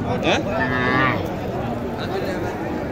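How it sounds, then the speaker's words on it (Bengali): A cow moos once at a cattle market, a drawn-out low call, amid crowd chatter and background noise outdoors. "এখানে একটা সুন্দর একটা গাবি দেখেন, দেশি গাবি।"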